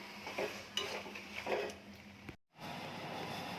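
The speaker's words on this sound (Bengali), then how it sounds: "আর এখানে কিশমিশ, আমন্ড আর কাজু বাদাম দিয়ে দিচ্ছি, দিয়ে এটাকে ভালো করে নেড়ে ছেড়ে নামিয়ে নেব" Raisins, almonds and cashews being stirred into a filling in a pan, with soft scraping and light clinks of the spoon, two louder stirring bursts, then a brief drop to silence before faint stirring resumes.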